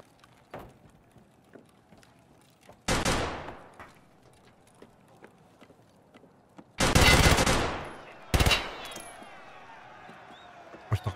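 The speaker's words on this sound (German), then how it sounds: "Warum schießen sie sich hier immer gegenseitig tot?" Gunfire in the shooter game Escape From Tarkov Arena: a few faint distant shots, then loud close bursts that die away, with a final rapid cluster of shots and scattered small clicks in between.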